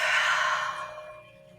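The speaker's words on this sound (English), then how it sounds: "Big deep breath in." A single deep breath drawn in and slowly let out during a guided healing and tapping session, soft and close, fading gradually with no talking over it.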